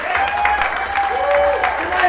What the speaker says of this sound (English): A big round of applause for Ian Cooper